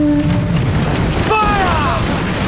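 Ship cannons firing in Assassin's Creed Black Flag: a deep, heavy boom under a constant roar of wind and sea, loud and close, with shouted voices around it.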